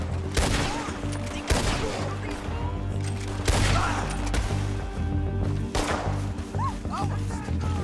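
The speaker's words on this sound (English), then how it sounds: "Told you I could shoot a gun, didn't I?" Red Dead Redemption 2 gunfire rings out in repeated loud, sharp shots spread across the stretch, mixed with crashes and game ambience, while brief voices sound underneath.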